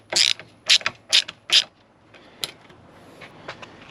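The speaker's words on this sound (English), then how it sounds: "So we're going to undo this Torx bit here," Ratchet undoing a Torx T30 bolt on a Can-Am Defender, heard as four quick, close clicking bursts followed by a few fainter clicks.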